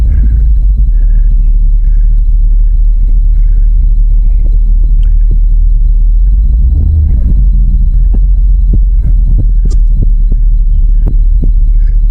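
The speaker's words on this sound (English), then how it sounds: "Must be the truck's moving." Loud, steady low engine rumble and hum from a truck pulling a rope on a dead ash tree, with faint clicks and knocks.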